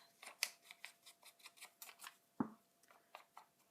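Scissors snip around the white edge of a paper butterfly in a quick run of short, crisp cuts with one sharper snap midway, close and quiet.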